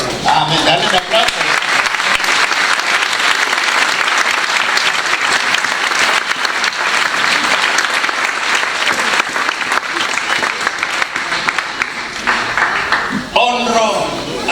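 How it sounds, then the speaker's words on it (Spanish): A church congregation gives sustained, loud applause at a Sunday anniversary celebration service, dense clapping that carries on for the whole stretch and fades only near the end. "Dale un aplauso."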